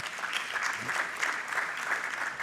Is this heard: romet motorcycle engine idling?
no